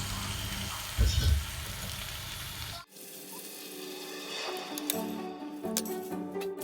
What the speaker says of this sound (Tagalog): Prito naman pagkatapos ang giniling na karne.